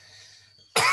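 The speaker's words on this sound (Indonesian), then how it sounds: "Mohon maaf ini sambil batuk-batuk." A single sharp cough bursts out at the end of a quiet stretch, close and loud, from someone speaking during an online tutorial session.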